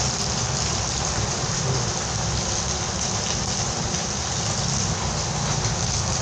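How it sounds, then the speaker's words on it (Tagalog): Heavy, unrelenting rain pours down in a dense, loud hiss that stays steady and close from start to finish, with no voices over it. "Walang tigil yung ulan, grabe, sobrang lakas."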